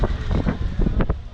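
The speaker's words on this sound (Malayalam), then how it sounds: "നല്ല എന്താ പറയുക, നല്ല കാറ്റ്," Strong wind buffets the microphone at Harihar Fort, a short burst of rough, gusting rumble and roar lasting just over a second.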